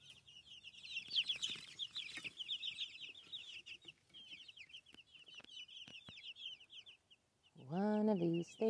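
Free chickens at an off-grid cabin build site cluck and chatter softly in a fairly steady run of small calls, with a louder, nearer call bursting in near the end.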